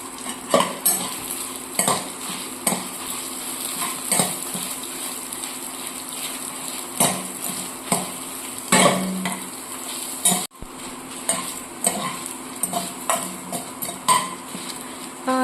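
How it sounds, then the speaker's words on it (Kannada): Coriander seeds and fenugreek fry in a pan, a steady sizzle broken by repeated scraping and clinking of a metal spoon as the spices are stirred, close and moderately loud with no talk. "ಮೆಂತೆ ಹಾಕಿ ಸ್ವಲ್ಪ ಫ್ರೈ ಮಾಡು"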